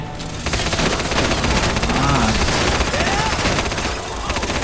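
Rapid bursts of automatic gunfire in the video game GTA V, a dense, loud fusillade of shots running almost continuously, with a voice talking faintly beneath.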